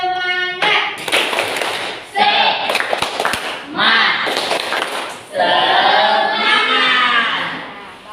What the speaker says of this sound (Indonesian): coba ya, tepuk semangat.